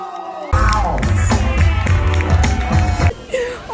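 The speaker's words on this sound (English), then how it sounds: "Now clap, y'all, hands right there. Clap, clap those hands, clap those hands." Studio audience at the Wendy Williams Show clapping and cheering, a loud burst of crowd applause with whoops that starts suddenly and holds steady before easing off, close and full.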